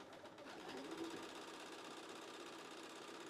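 A sewing machine stitches a quarter-inch seam around a pinwheel quilt block with a steady, even whir. The sound is faint and continuous, with no speech.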